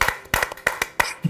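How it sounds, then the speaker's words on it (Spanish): Handclapping in a TV studio welcoming a guest, a few sharp claps in an uneven rhythm, close and fairly loud, with no talk over them. "Con este aplauso te recibimos."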